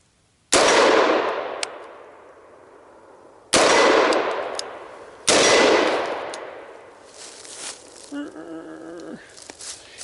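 Three sharp shots from a 7.5-inch AR-15 rifle on an outdoor overland shooting course, each loud crack ringing off a steel target with a long metallic decay, spaced a few seconds apart.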